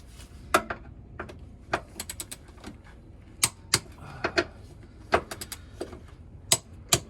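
A torque wrench tightening bolts on a Ford Focus RS MK3 chassis, with sharp metallic clicks and ratcheting bursts spaced irregularly, close and loud against a quiet garage background.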